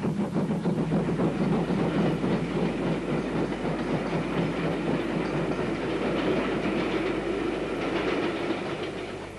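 A 1960 steam special on the Cambrian line, hauled by two engines, rolls by with a continuous rumbling roar and rhythmic clickety-clack of wheels on rail joints, easing slightly toward the end.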